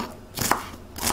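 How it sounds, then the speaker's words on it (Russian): Two sharp knife chops through onion against a cutting board, close and crisp, spaced about half a second apart. "Нарезаем наш лук."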